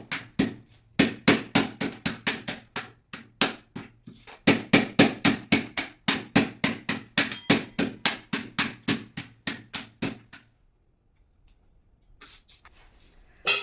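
Roti pieces are pounded for a sweet payasam in a rapid, even run of sharp thuds with two short pauses, close and fairly loud, before stopping into near silence.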